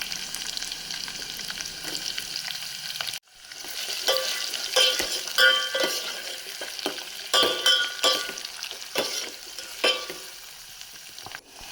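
Onions, garlic and curry leaves fry in hot oil for sambar, giving a steady crackling sizzle punctuated by scraping stirs and light clinks of a spoon against the pan, with a brief dip in sound partway through.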